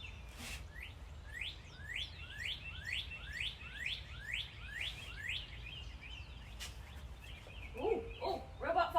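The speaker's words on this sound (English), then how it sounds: "I'm going to use the accompaniment of the birds." Birds chirp and sing outdoors on a rainy day in a steady run of quick, rhythmic tweets. Other calls join near the end, all over a soft, continuous background hiss.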